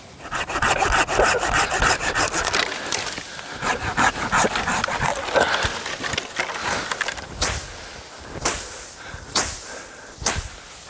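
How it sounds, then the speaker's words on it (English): A saw cuts down grass on a hunting property, giving a loud, continuous rasping grind with steady rhythmic strokes, then breaking into several separate surging bursts near the end. "mowing down some grass with the saw"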